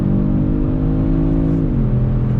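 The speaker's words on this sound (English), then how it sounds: "Let me go ahead and get on throttle just a little bit here as we go down this road." The engine of a 2020 Kia Stinger GT drones loud and steady from inside the sedan under light throttle on a road, its note dipping slightly partway through.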